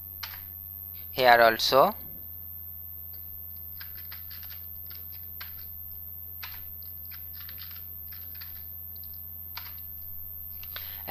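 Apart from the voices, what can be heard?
typing code on a computer keyboard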